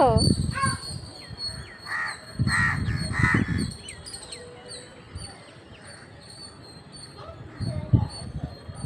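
Several crows caw near a scattered meal of food, sharp repeated calls in bursts over the first four seconds and again near the end, with a dog whimpering and someone speaking softly in between.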